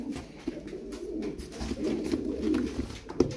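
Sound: tumbler pigeons cooing

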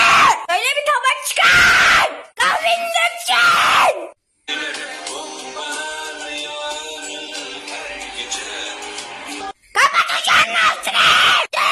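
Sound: person screaming

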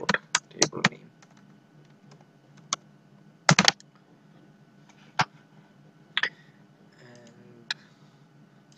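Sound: typing a query on a computer keyboard

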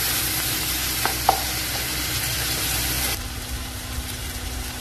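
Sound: masala sautéing and being stirred in a pan

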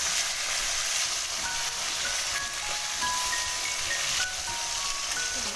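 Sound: bata fish frying in a pan

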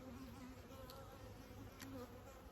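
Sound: honeybees buzzing

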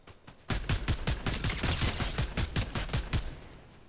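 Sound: gunfire in Fortnite video game

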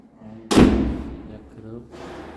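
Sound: door being closed

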